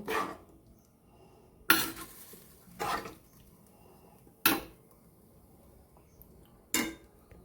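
Dishes and bowls clink and clatter in a home kitchen while vegetarian food is served into bowls, four or five sharp knocks spaced a second or two apart, close and moderately loud with quiet gaps between.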